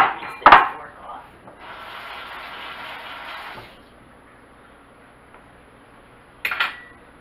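A fork whisks coating mix for air-fried pickles in a bowl: a few seconds of steady scraping and rubbing, close and moderately loud, bracketed by sharp metallic clinks of the fork against the bowl at the start and end.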